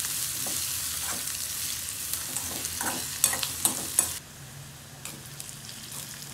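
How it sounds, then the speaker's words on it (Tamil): Chopped onions fry and sizzle in a pan for a home-made sambar, a steady crackling hiss with intermittent stirring scrapes, close and alone without talk. "எல்லா வெங்காயமும் நல்ல ஒரு பதத்தில் பொரிஞ்சு வரும்"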